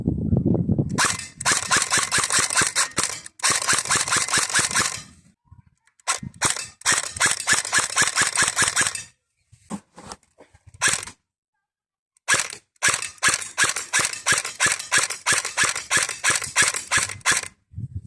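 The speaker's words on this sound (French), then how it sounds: "Pour moi sur les répliques d'Airsoft, il y a un truc qui est assez important, c'est le bruit de la culasse." The bolt of an APS AK74MN airsoft AEG replica racks repeatedly, with rapid bursts of sharp mechanical clacks from the dry-firing gearbox separated by short pauses, close and crisp with no voices.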